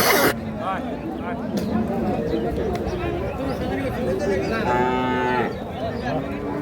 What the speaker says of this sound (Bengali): একটা সুন্দর সাইজের শাহিওয়াল সিন্ধি গাভী এবং সেই সাথে একটা বকনা বাচ্চা শাহিওয়াল